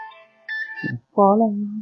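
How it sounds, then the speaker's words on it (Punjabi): A phone ringtone plays a short electronic melody of bright tones, then a louder sustained tone begins, close and clear. "ਮੈਨੂੰ ਕਾਲ ਆ ਰਹੀ ਹੈ ਇੱਕ ਮਿੰਟ"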